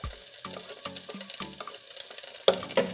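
Freshly grated ginger and garlic sizzle in a hot pan for chips masala, a soft crackling fry with scattered stirring clicks, close up and without speech.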